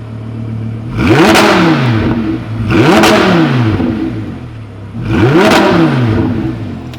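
A V10 car engine revs three times in long, loud swells, each climbing and falling in pitch with a rough mechanical edge, idling between pulls.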